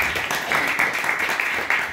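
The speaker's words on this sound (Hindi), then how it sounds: "आए अपने लिए जोरदार ताली बजा।" An audience at a pastor's sermon breaks into loud, brief clapping, a dense wash of applause with faint speech underneath.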